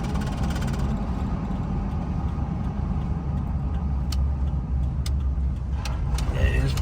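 A car drives past cornfields, heard from inside as a steady, loud low road and engine rumble that continues unbroken, with faint ticks near the end.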